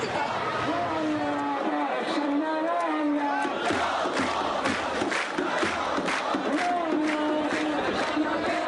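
A large outdoor crowd in Syria roars as portraits of the dictator are burned, with shouting, cheering and jeering voices overlapping into a continuous, dense wall of noise.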